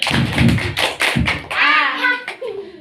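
Children clap their hands in a short game at a Quran study class, a few bunched thumping claps ringing out close by, then a voice speaks.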